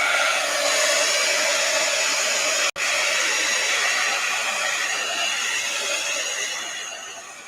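A hair dryer blows steadily and loudly over a wet art journal page, with one brief cut-out partway and the airflow easing off toward the end.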